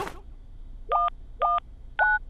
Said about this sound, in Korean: 파파는 전화기를 선택했습니다